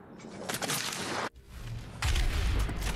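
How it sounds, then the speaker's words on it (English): The heavy cannon in the video game DOOM Eternal fires in rapid crackling bursts, with a brief gap followed by a deeper, booming volley. "use the heavy cannon."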